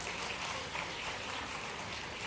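Audience applause welcoming the chief minister at a Guru Purnima event at Devi Ahilya University in Indore: a steady, dense clatter of many hands, fairly distant and even throughout, with no voices.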